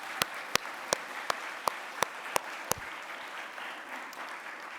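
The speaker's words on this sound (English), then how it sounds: "Let's give them a big round of applause" Audience applause at a science awards ceremony, with a broad wash of clapping and a run of sharp, evenly spaced loud claps near the microphone that stop after about three seconds while the crowd keeps going.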